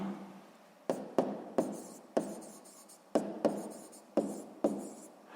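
A pen writes on paper during a sixth-grade math exercise, making repeated close scratchy strokes with sharp starts roughly every half second to second, each stroke fading before the next.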